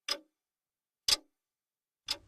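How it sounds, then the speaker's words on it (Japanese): A clock ticks in a quiet room, three crisp, evenly spaced ticks about a second apart against near silence. "時計の音だけが聞こえます。"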